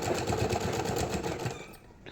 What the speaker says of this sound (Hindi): यहाँ पे सीधी सिलाई चला लेंगे